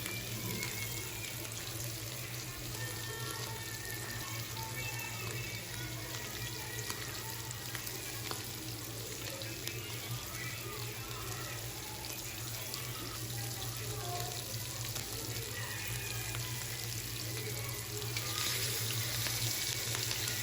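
Hilsa fish pieces fry in oil for a bitter gourd dish, a soft continuous sizzle held steady at low volume, with a faint hum beneath and a slight rise near the end.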